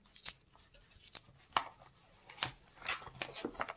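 Electrical tape unrolled in short tearing pulls and wrapped several times around a plastic sap collection bag and PVC funnel, giving sharp, close crackles and rips at irregular intervals against a quiet background.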